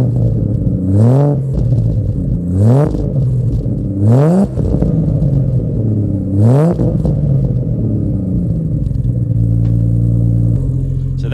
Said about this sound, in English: So that's with the VAREX open